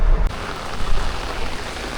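Steady rain falls on a car driving through wet weather, a dense even wash of drops on the roof and windshield with no talk, lasting about two seconds.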